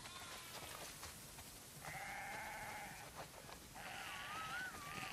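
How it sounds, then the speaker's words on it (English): Flock of sheep bleating on a farm in The Last of Us Part II, several overlapping drawn-out bleats in sequence, moderately close over a soft rainy ambience. "Wow, that's a lot of sheep."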